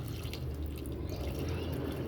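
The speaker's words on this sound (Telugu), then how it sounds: "ఇప్పుడు ఫస్ట్ ఇసుక బొగ్గు ఏదైతే ఉందో ఆ కుండలో మనం పోస్తున్నాం వాటర్ని. ఇది చిన్నగా ఫిల్టర్ అవుతూ" Water seeps through a sand and charcoal clay pot filter, making a faint, steady trickle with soft drips beneath a constant wash of noise.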